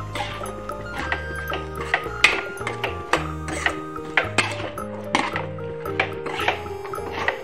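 Chickpeas sautéed in a pan for chana masala, with repeated sharp metallic clinks and scrapes of a utensil against the pan in an irregular rhythm, close and clear, no talking.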